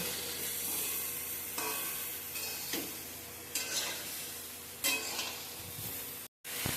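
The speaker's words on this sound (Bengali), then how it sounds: "আমি চার পাঁচ মিনিট চিচিঙ্গাগুলো ভেজে নেব" Snake gourd pieces fry over high flame in a pan, giving a steady loud sizzle broken by several scraping stirs, with no talking.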